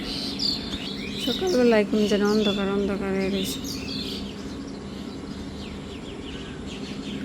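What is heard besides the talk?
birds chirping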